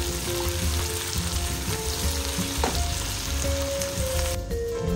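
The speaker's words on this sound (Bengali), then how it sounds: "এখানে দিয়ে দেবো কুচানো লঙ্কা, একটু নাড়িয়ে চাড়িয়ে দিচ্ছি।" Chopped green chilies stirred into frying onions for a spicy dry Bombay duck fish dish give a continuous close sizzle with scraping stirs and utensil knocks, and no voices.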